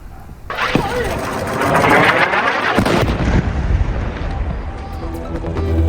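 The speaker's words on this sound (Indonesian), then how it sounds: "Sebuah ledakan terjadi di Gaza Tengah." A loud explosion in Deir al-Balah, central Gaza, booms and rumbles, followed by lingering roaring noise and scattered crackles, with chaotic background commotion.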